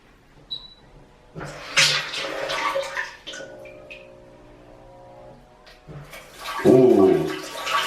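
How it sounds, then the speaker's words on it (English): A high-tech bidet toilet with seat warmers sprays and gurgles water in bursts, with clunks and rushing flushes close by and a louder watery surge near the end; no speech. "Now it's time to try this bidet thing."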